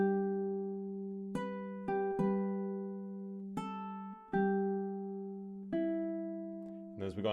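Ukulele plays Amazing Grace as plucked single notes over a ringing open G-string drone, each note sustaining until the next. Soft, close and slow, with clear separate plucks, and a brief rustle at the end.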